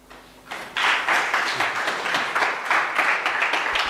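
Audience applause at a seminar following a speech, starting abruptly after a brief quiet moment and then continuing as a steady, moderately loud patter of many hands clapping in a hall.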